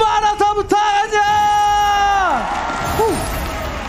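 Esports arena crowd at an MPL Indonesia Mobile Legends match cheering loudly, with sustained shouting voices and whoops that rise then fall away, sharp claps at the start.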